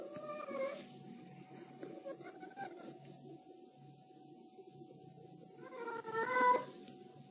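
A cat meows twice, once near the start and again near the end, with quiet room noise in between.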